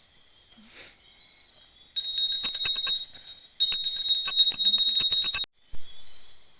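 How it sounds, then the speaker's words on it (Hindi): Bright, high metallic ringing of a small prayer bell during a Hindu puja, in two sustained bursts with a brief gap, faint and clear with no talking. "घंटी बजाओ।"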